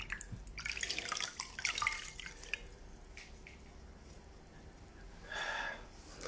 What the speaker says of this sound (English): I'm going to wash that off as well.